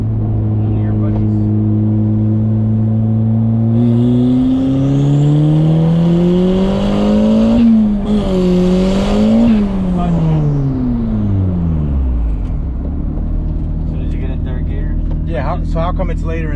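A turbocharged Honda Del Sol engine pulls hard while driving, the tone climbing steadily, easing off briefly, rising again, then dropping sharply after a shift, loud and close inside the car, with a voice talking over it.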